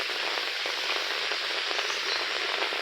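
Rain falls steadily on a flooded rooftop, a dense even hiss of drops on water and surface that holds constant throughout.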